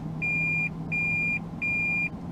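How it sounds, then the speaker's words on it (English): Steady reversing warning beeps inside a 2014 Toyota Prius V, three evenly spaced electronic tones repeating loudly over a low engine and cabin hum. "it's going to keep beeping and keep beeping until I back up to where I'm backing up to and put it in park"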